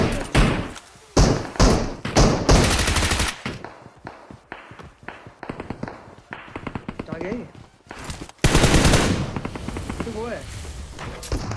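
Bursts of M4 rifle gunfire in a PUBG match, sharp repeated shots in quick volleys with short pauses between, close and loud, with a voice talking over some stretches.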